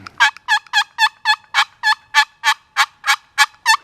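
A hybrid slide turkey call gives a fast, steady series of sharp yelps, about a dozen evenly spaced clucking notes, loud and close with no other sound.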